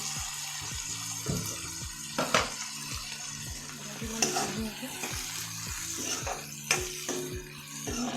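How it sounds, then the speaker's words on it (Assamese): A spoon stirs fried potatoes into spiced masala in a frying pan for a soybean curry, with steady, rhythmic scraping strokes over a constant close sizzle. "এইখিনি ধুনীয়াকৈ লৰাই ল'ম। মছলাটো প্ৰায় ভাজ খাইছে।"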